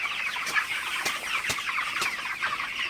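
Broiler chickens on a farm at night cluck and chatter steadily at close range, with a few short, sharp knocks scattered through the noise.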